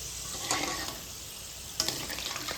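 Lentils deep-frying in hot oil for homemade spicy chanachur, a steady close sizzle and bubbling with a few brief louder crackles, no talking.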